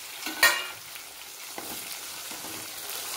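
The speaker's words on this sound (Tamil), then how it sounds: "தக்காளி நல்லா வதங்கட்டும்." Chopped tomatoes and onions fry in oil in a pan, with one sharp, loud stirring scrape near the start, then a soft, continuous sizzle with faint further stirs.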